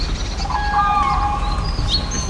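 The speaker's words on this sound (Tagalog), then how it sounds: "Ang sarap pakinggan ng mga huni ng ibon, no?" Birds chirping by the river at a farm campsite in Alfonso, Cavite, with several clear, thin whistled calls and tweets over a low steady background rumble.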